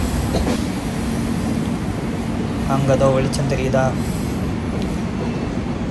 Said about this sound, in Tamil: இப்போ நம்ம ட்ரெயின் வந்து ஒரு குகைக்குள்ளே போயிட்டுருக்கு